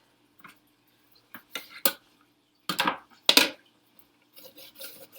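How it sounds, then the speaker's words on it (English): Fresh ginger root rubbed over a kitchen grater in a home kitchen while making shrimp toast, a few short scraping strokes in scattered bursts separated by quiet pauses. "So she's grating a teaspoon of ginger."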